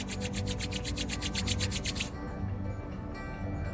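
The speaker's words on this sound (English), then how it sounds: "Rub your both palm." Two palms rubbed briskly together, about a dozen quick rhythmic swishes close up, then a softer and slower rubbing.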